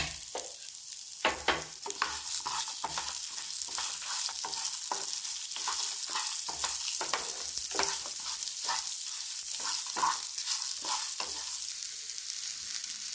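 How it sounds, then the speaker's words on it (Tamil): Lentils, garlic and onion sautéing in a pan, a continuous close sizzle punctuated by regular scraping stirs throughout, with no voices. "இப்போ அது கூடவே பூண்டு கொஞ்சமாக வெங்காயம் நல்லா வதக்கிக்கலாம்"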